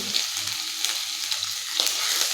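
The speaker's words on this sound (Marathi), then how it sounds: "लसूण आहे तो जो सोनेरी कलर येईपर्यंत चांगला परतून घ्यायचा आहे" Crushed garlic and ginger sizzle in hot oil in a village-style kitchen, a steady close frying hiss with occasional stirring clicks of a spoon, no voices.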